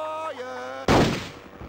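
A single loud cannon blast from the video game Hogs of War, a sudden boom that cuts off a tonal musical background and decays quickly.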